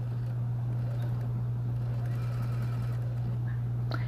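A sewing machine stitches small curved owl mug rug pieces, with a steady close motor hum and needle chatter running continuously.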